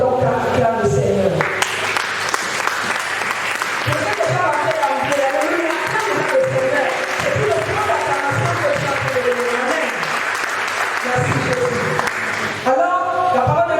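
A church congregation applauding to acclaim the Lord, with dense sustained clapping from many hands filling the room while a voice talks over it throughout.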